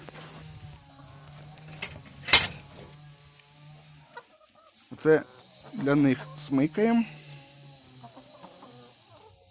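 Hens cluck in short bursts close by in a vegetable garden, mixed with a man's speech and some rustling outdoors.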